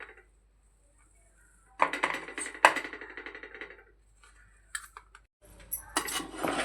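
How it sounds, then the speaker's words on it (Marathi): A spoon stirs jaggery into strained lentil water in a metal pot, with scattered clinks and scraping against the sides in short close bursts separated by quiet pauses. "हा गूळ आपण मिक्स करून घेणार आहोत।"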